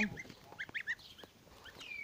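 Several short, high-pitched chirping calls from young birds, a quick cluster of peeps followed by a thinner call, fairly close in a quiet setting.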